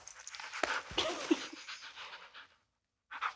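A dog pants in quick, breathy bursts close by during obedience training, with a faint whimpery tone, then a short silence before the panting resumes.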